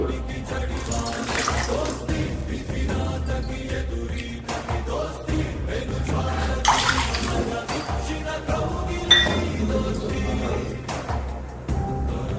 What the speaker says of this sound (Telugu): ఒక కప్పుకి రెండు కప్పులు నీళ్ళు పోసుకుందాం అదే కప్పుతోటి